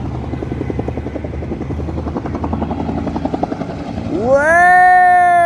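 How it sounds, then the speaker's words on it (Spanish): A helicopter passes overhead at Plaza de la Bandera in Santo Domingo, Dominican Republic, its rotor thumping in a fast, loud, close rhythm, until a sharp sustained high-pitched tone cuts in near the end. "Helicóptero."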